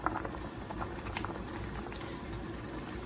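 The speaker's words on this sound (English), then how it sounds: "The spoons have been boiling for about 20 minutes now." Water bubbles at a steady rolling boil in a pot holding wooden spoons, a continuous close hiss of popping bubbles with occasional faint clinks and no talk.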